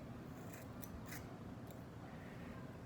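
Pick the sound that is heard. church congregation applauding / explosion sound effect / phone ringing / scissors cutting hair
scissors cutting hair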